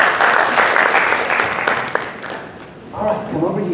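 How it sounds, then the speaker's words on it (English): An audience applauds as a volunteer comes down, a dense burst of clapping that stays loud and steady for a few seconds, then thins out as a voice speaks over the fading claps. "Give her a big round of applause."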